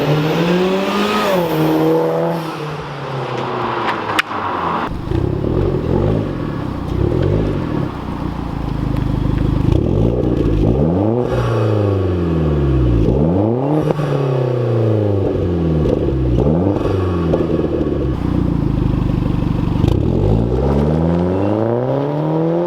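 A Genesis car fitted with a louder exhaust accelerates hard through several gears, each rising engine sweep breaking off and starting again, loud and steady for the whole stretch with no talking over it.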